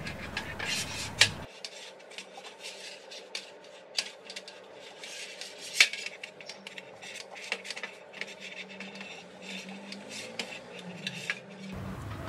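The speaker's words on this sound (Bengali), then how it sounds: "কিচেন চিমনির এই পার্টস দুটোতে ভালোভাবে তারপিন তেল লাগিয়ে দিচ্ছি" Turpentine oil is rubbed onto two greasy kitchen chimney parts, making soft, close scraping and rubbing with scattered light clicks and taps; no one talks.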